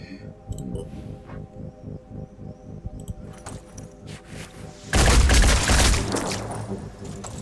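Rapid bursts of gunfire in the video game Phoenix Point, sharp repeated shots over a rhythmic background, ending in a loud, dense volley of explosive blasts.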